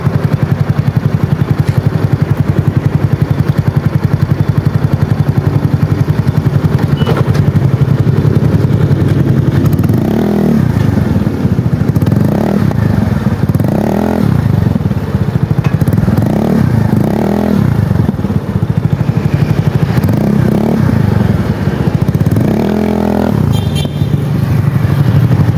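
A Yamaha Mio scooter with a new muffler runs loudly and close by, its engine droning steadily while several short revs rise and fall over the idle.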